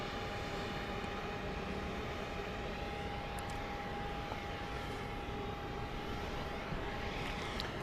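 Boeing 737-700 airliner arriving at Dallas Love Field at night, a steady broadband engine roar that holds without a break, moderately distant, with a faint tonal whine running through it.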